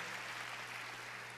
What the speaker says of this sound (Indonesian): Coba tepuk tangan lebih baik lagi Bapak Ibu.